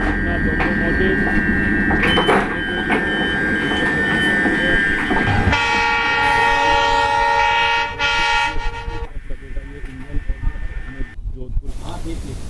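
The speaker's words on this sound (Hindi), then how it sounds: "तो वो सामने अपना लोकोमोटिव आ रहा है। ये गया अपना लोकोमोटिव।" A locomotive of the Ranikhet Express passes close by on the rail line near Marwar Junction, a loud steady rumble with wheel and wagon noise, a sustained horn tone in the middle, then fading clatter; a voice speaks over it.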